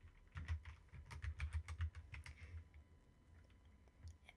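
Keys clatter quickly on a computer keyboard in bursts, close and fairly quiet, with a pause and a few scattered taps near the end; no one speaks.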